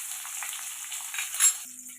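Chopped onions fry in hot oil while making borugula upma, a soft, steady sizzle with light crackling and a brief stirring clink near the end.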